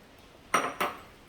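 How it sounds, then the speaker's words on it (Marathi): Potatoes dropping into a pot of village-style chicken curry, two quick metallic clatters in close succession, near and fairly loud against a quiet background. "आता यामध्ये बटाटे घालते"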